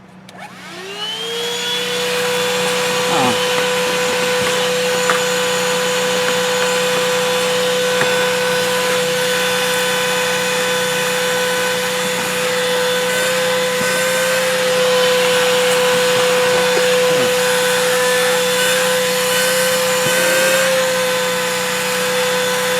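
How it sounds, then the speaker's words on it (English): A Thisworx handheld car vacuum cleaner runs with its hose attached. It starts up, then holds a loud, steady whine with a constant pitch for about twenty seconds, with faint rubbing and scraping bits under it. "we'll try the hose now and see how well it will vacuum out the crevice there"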